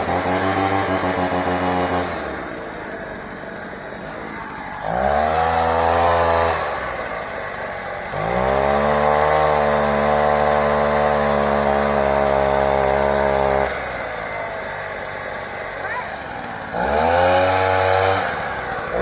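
Echo PB-2100 leaf blower's small two-stroke engine running after a carburetor replacement, revving in repeated bursts that rise in pitch, then dropping back to a steady idle, loud and close.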